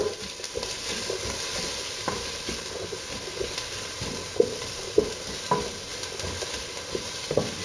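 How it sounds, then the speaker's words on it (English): Chorizo and onions frying hot in a pan, a dense continuous sizzle with scattered spatula scrapes and small knocks, close and fairly loud, no voices. "what I like to do with the chorizo is have that nice and hot and brown that off"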